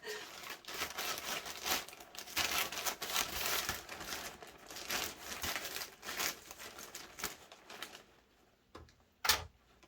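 Crinkly tape and packaging being torn and pulled open on a taped-shut package, a close, steady rustling and ripping that runs several seconds, then drops off to near quiet with one last sharp crackle.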